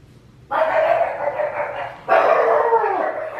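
Indoors, dogs bark in two loud, close bursts, each a rapid run of barks lasting over a second, with a short quiet gap before the second, louder round.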